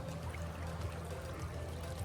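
Water pouring and flowing steadily in a cruise ship pool, a constant moderate gushing stream heard close with no talking.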